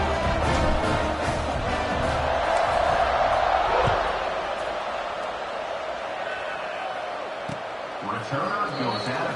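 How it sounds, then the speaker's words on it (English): A sports video game crowd hums and roars in a broad, steady wash of noise after a score, with a commentator talking over it. "this crowd is buzzing after that last score"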